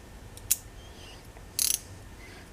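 A wrench ratcheting on the alternator bolt of a Honda GoldWing GL1800, a few quiet isolated clicks followed by a short rapid burst of ratchet clicks.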